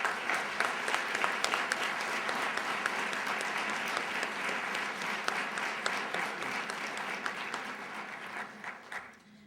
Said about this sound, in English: can we please give a round of applause for our speakers?